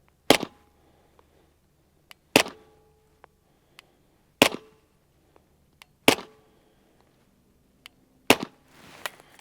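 Suppressed 9mm gunshots with 147-grain Remington ammunition, five sharp muffled reports spaced about two seconds apart, each followed by a short decaying ring, with faint clicks between shots.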